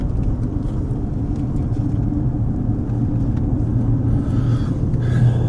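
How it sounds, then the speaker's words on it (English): A car rolls down a hill through a small Pennsylvania town, a steady close engine and road rumble heard from inside the vehicle, with no talk. "And we'll just take a drive down a hill here,"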